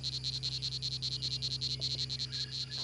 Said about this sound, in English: He aims a volley of repetitive croaks towards the rival